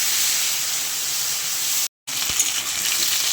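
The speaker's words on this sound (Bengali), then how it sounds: "কাঁচকলা আর আলুগুলো ভাজা হয়ে গেছে" Potatoes and green plantain fry in hot oil with black cumin and slit green chilies, giving a steady, loud sizzling hiss that cuts out briefly before resuming, with no talk.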